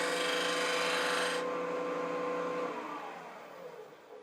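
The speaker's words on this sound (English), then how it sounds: "And we've scraped a very nice bead here." A wood lathe turns a bead with a scraping tool, giving a steady, loud raspy scrape with a humming tone that drops off after about a second and a half, then rings on more quietly.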